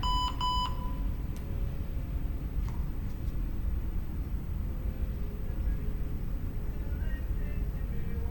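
A workout interval timer gives a quick run of bright electronic beeps at the start, then a steady background hiss continues with no talking.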